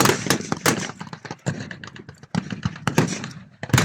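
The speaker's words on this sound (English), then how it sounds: "Machine guns and all the vehicles firing into the German trenches, trying to get their heads down." Machine guns and military vehicles fire blanks toward mock German trenches at the Victory Show in Cosby, 2024, a battle reenactment; loud, rapid, irregular bursts of cracking shots follow one another closely.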